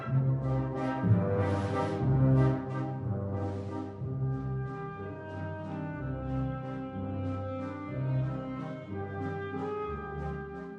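A waltz in 3/4 time with sustained, warm chords and a lilting three-beat accompaniment, played at moderate volume for about eleven seconds without any talking.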